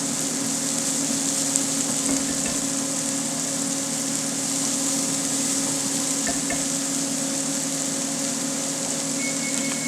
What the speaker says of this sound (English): we're going to start off by adding some of these shallots right to the pan. These chopped shallots. We're going to sweat these down.